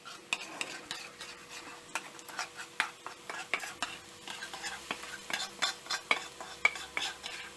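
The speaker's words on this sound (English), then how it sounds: "Fry the masala well and then add the prawns and squid mixture." Masala paste with tomatoes frying and being stirred in a pan for a stuffed calamari, prawn and squid dish, a soft sizzle under steady spoon scrapes and clinks against the pan, close and moderate.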